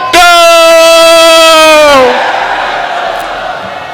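A crowd at a PPP rally for Zulfiqar Ali Bhutto's anniversary roars a chanted slogan in one long, loud, sustained tonal shout. The shout breaks off after about two seconds into a fading crowd murmur.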